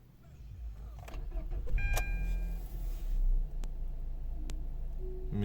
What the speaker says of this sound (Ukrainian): Включаю запалення.